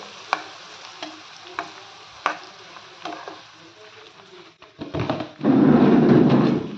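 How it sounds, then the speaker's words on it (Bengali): Panch phoron whole spices hitting hot oil for a pickle, a few sharp stirring clacks at first, then a loud, dense crackling sizzle that swells up and holds close by. "কিন্তু গরম তেলে দিয়ে দিলাম ভাজা ভাজা হয়ে যাবে"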